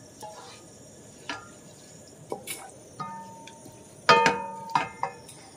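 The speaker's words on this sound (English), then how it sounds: "This is what it's looking like while I'm stirring it." Vegetables and mushrooms are stirred in a pan, giving scattered spoon taps, clinks and scrapes against the cookware at a quiet, close level, with a faint hiss underneath.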